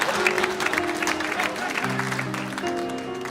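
Audience clapping at a stand-up comedy show, a scattered wash of claps with tonal music-like lines and voices layered over it, moderate in level throughout.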